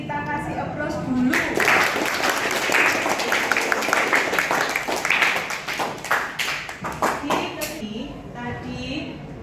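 A classroom group at a vocational school claps together in a burst of applause lasting several seconds, with children's voices mixed in and the clapping thinning out toward the end.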